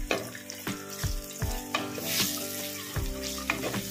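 Cut tomatoes go into sautéed onions frying in a pan, producing a close, continuous sizzle punctuated by a series of distinct stirring knocks and scrapes at roughly regular intervals.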